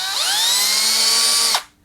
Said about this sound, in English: you set the drill for the power screw driving function rather than the power drilling function